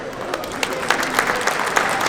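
Brisk audience applause at a vintage car show prize ceremony, a dense spread of clapping with a few louder claps cutting through, close and steady for a couple of seconds.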